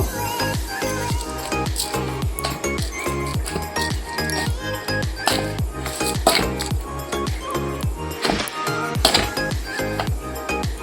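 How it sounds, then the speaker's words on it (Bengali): Batter with fennel seeds and cardamom mixed in a bowl for mango malpua, a rapid, rhythmic clatter of a utensil beating against the bowl, close and busy throughout. "একটু মৌরি দিয়ে দিলাম ভালো করে আগে এই মিশ্রণটাকে আমি মিশিয়ে নেব"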